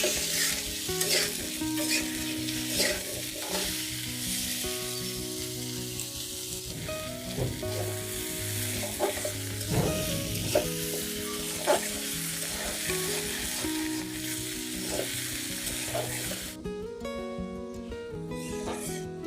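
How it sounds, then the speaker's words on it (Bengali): Potatoes frying in hot mustard oil for a spicy crab curry, a steady close sizzle with stirring scrapes, under a faint layer of background music. "আলুগুলোকে আমি ভেজে নিব।"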